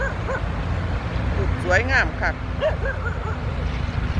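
A dog barks a few times in quick yips and whimpers nearby, over a steady hum of background noise with someone talking.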